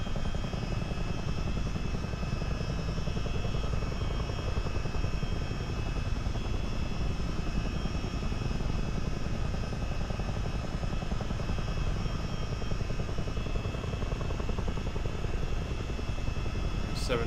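CH-47D Chinook twin-rotor helicopter in a flight simulator game, coming in to land near the Great Lakes, with a steady loud rotor and turbine drone that holds even and continuous throughout.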